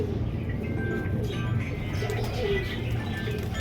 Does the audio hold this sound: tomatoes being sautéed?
no